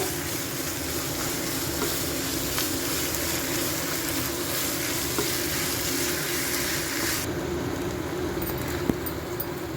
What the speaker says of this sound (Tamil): நம்ம மேரினேஷன் பண்ணி வச்சுருக்கிற அந்த பிராணை இதில் நம்ம சேர்த்துடலாம் சேர்த்துட்டு நல்லா கிளறி விடுங்க